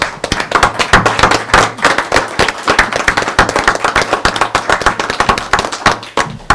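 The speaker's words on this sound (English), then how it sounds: "give him a round of applause" A round of applause at a town board of aldermen meeting, loud dense clapping from a room of people, steady throughout with no talk.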